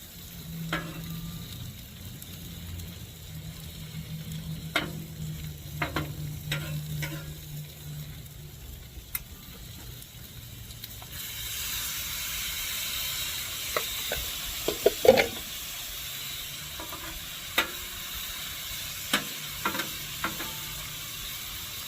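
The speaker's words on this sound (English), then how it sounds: "We're gonna melt some butter." Butter melts and sizzles on a grill while shrimp cook, a steady close frying hiss that grows louder midway, dotted with occasional clicks and taps of utensils, with no one speaking.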